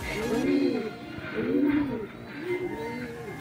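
Racing pigeons cooing in a loft, three rolling coos in a slow rhythm, close and clear over a light background murmur with faint talk.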